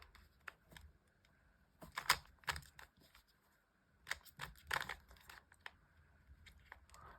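A 2x2x3 Rubik's cube is twisted by hand in quiet, scattered bursts of plastic clicks and rattles, close but faint, with short pauses between groups of turns.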